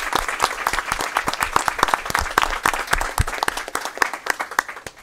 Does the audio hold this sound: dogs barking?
no